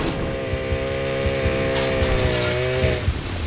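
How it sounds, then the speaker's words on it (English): A revving chainsaw from a PS2 boss fight roars with a steady buzzing drone that rises slightly in pitch, loud and up front, alongside scattered game sounds and no talk. "Piggsy just relentlessly chases you with a chainsaw"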